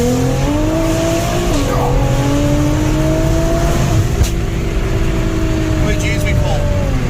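Engine of an 850 wheel-horsepower 2017 Nissan GT-R accelerating hard on the road, a loud, steady drone with rising harmonics heard from inside the car throughout, with faint chatter underneath.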